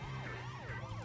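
Wailing police car sirens in The Simpsons: Hit & Run, several overlapping sweeping tones rising and falling steadily over a low engine drone, loud and close throughout.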